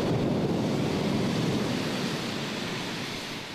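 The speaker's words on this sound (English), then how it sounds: "Heavy rain early today caused flooding and landslides around the territory." A heavy downpour in Hong Kong during a black rainstorm warning, a dense, continuous roar of rain, loud and steady, easing slightly toward the end with no voices.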